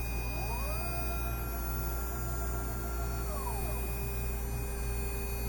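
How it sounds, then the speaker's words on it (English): A CNC machine drills a center hole in metal for an Antikythera replica, giving a smooth tonal whine that rises, holds for about three seconds, then falls away over a steady background hum. "And we're going to drill our center hole."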